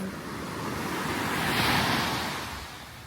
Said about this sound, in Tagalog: ang lakas ng lakas ng alon